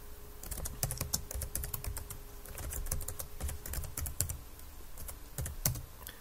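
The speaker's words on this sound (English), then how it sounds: "at the minute, I'm having to type the password in" Someone types a password on a computer keyboard to log into a Raspberry Pi over SSH. Quick, uneven clusters of sharp key clicks sound up close and clear over a quiet room, with no speech.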